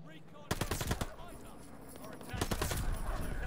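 Rapid bursts of gunfire, including a shotgun, crack through Call of Duty: Vanguard online multiplayer action, two clusters of sharp reports under game ambience.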